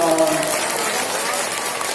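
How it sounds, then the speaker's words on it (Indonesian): Congregation at an Isra Mi'raj sermon clapping in a short, dense burst of applause, fairly loud and steady, with a voice briefly heard over its start. "Tepuk tangan dong."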